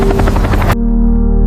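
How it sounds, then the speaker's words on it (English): A helicopter heard from inside, a loud continuous rotor and engine drone with a rapid chopping pulse, cut abruptly to a steadier, quieter engine hum. "Inside the chopper, Oren looks back at the city"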